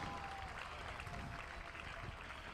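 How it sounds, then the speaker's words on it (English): Applause from polo spectators at the Horse Guards ground after a chukker of the Westminster Cup, a steady dense wash of clapping over crowd murmur, moderately distant and continuous throughout. "Give them a round of applause"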